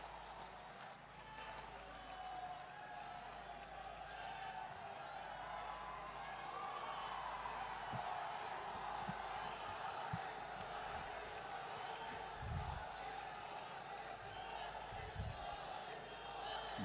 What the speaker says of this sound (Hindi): भागलपुर की एक एक जनता ताली बजाकर स्वागत करें प्रधानमंत्री नरेंद्र मोदी जी।